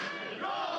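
A pro wrestling crowd yells and cheers for a wrestler in a loud, dense burst of shouting voices, brief and continuous.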